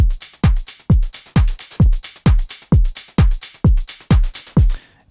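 A dry, unprocessed house music drum loop with no saturation, clipping or compression: a steady four-on-the-floor kick thumps about twice per second, punctuated by crisp hats and claps, alone and loud.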